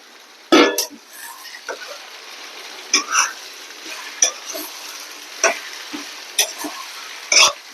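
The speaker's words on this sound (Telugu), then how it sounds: "ఇప్పుడు దోసకాయ ముక్కలు వేస్తున్నాను." Cucumber pieces fry in a pan alongside brinjal for a dried-fish curry, giving a soft, steady sizzle broken by intermittent clinks and scrapes of a stirring utensil.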